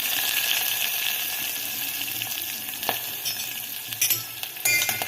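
Cumin, green chili and onion sauté in hot oil with a steady sizzle and a few scraping stirs of a spoon in the pan, faint and close, no talking.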